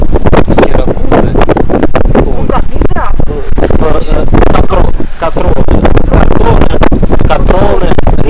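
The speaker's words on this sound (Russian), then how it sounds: "Сейчас у нас задул этот ветер, который мы так долго ждали." Strong wind at sea buffets the microphone in loud, continuous gusts on a sailing passage from Tivat toward Syracuse, with rushing air and occasional water noise, no clear speech.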